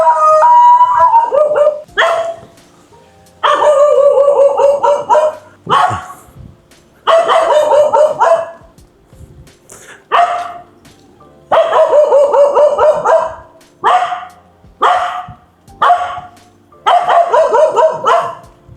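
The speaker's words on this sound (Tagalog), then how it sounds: "May aso pa nakatali na nakawala." A dog that has slipped its leash barks and howls outdoors in repeated loud bursts, long drawn-out howls broken by sharp barks and yips with short silent gaps between them.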